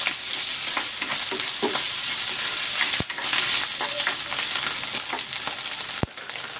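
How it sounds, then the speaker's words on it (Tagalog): Canned shiitake mushrooms sautéing in a hot pan, a loud, steady close sizzle with frequent stirring scrapes and a couple of sharp utensil knocks. "Gigisa ko na rin dito itong shiitake mushroom."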